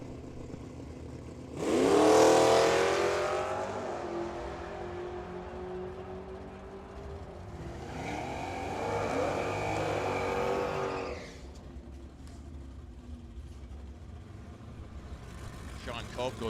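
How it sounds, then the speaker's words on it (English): Honda Civic and a 1992 Mustang drag racing at Firebird Motorsports Park, two loud bursts of revving engines sweeping past close by, with an announcer talking over the track noise. "So Danielle with her Honda Civic and a Mustang 92 model"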